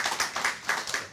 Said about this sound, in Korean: 우리 하나님께 다시 한번 영광의 박수를 드리겠습니다.